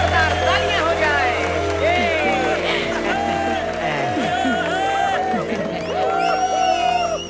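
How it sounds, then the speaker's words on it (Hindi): A large crowd at an evening camp event cheers, whoops and claps loudly and continuously, with shouting voices layered throughout as a celebrity guest is welcomed. "जोरदार तालियां हो जाए।"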